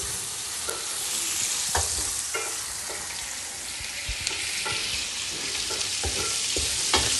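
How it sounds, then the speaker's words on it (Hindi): Capsicum frying in a pan, with a steady close sizzle broken by repeated spatula scrapes and knocks at irregular intervals, no voices over it. "शिमला मैंने बीच में डाल दिया, अब इसको थोड़ी देर फ्राई करते हैं"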